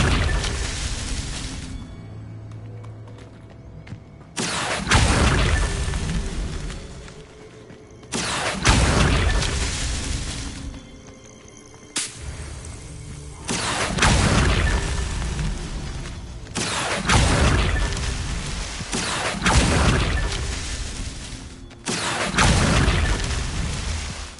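Booming magical spell effects from a Harry Potter-themed video game, a fire spell and a summoning spell, landing as a series of heavy, loud blasts roughly every few seconds, each with a rumbling tail, no talk.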